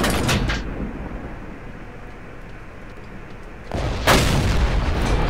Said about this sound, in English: Took a blind shot.